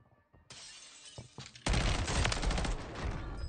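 Weapon gunfire in Call of Duty Warzone, a few sharp separate shots followed by a loud sustained burst of rapid automatic fire, close and dense, no talking.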